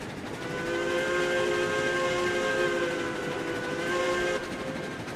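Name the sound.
steam locomotive and whistle in video game RailRoads Online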